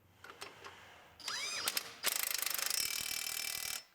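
A ratchet wrench tightens a bolt on a 2019 Sierra Denali truck, with quick metallic clicking bursts, a brief pause, then a long rapid run of ratchet clicks close by, with no talking.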